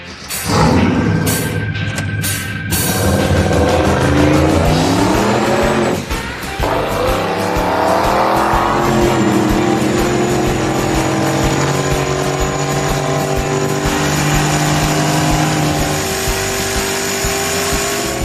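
Engine of a hot rod in a garage build fires up with a loud, close roar. Revs climb and fall through the first few seconds before it settles into a steady, rumbling run.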